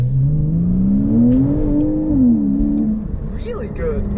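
A Porsche Boxster S engine pulling hard under acceleration, a loud close drone rising and dipping in pitch through the revs before settling into a quieter whir; a voice speaks briefly over it.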